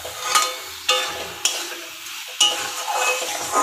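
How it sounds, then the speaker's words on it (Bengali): Mud snails tossed with cumin powder and mixed spices in a pan give a steady sizzle and scraping stir, with several sharper clanks of the spatula against the pan at irregular intervals. "এই যে গেঁড়িটাকে ভালোভাবে একটু নেড়ে চেড়ে নেওয়া হচ্ছে সব রকম মশলা দিয়ে।"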